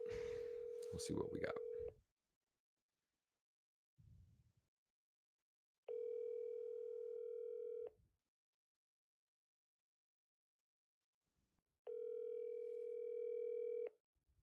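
An outgoing phone call plays its ringback tone: three steady two-second tones separated by long silent gaps, with a brief muffled sound in one pause.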